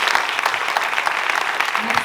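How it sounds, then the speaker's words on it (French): An audience at a forum event claps steadily, a dense, even patter of many hands filling the whole short stretch. "Tu peux l'applaudir également."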